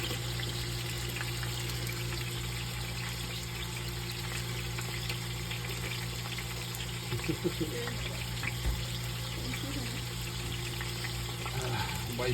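Food fries and sizzles in hot grease in a home kitchen, a steady dense crackle and hiss lasting throughout with occasional louder pops and clatters, close and continuous with no talk.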